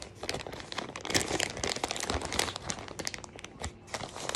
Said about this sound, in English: Got a little zipper here, a little ziplock where you can open it.